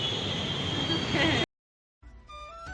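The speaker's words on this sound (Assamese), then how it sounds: "আমি আহি পাই গ'লোঁ মেট্ৰ' ষ্টেচন।" A train rumbles through a metro station with a loud broadband roar, then cuts off abruptly into silence before quieter station ambience with a tonal squeal returns.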